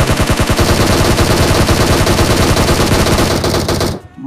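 Automatic gunfire in PUBG Mobile gameplay, a loud, rapid unbroken stream of shots for about four seconds before stopping abruptly.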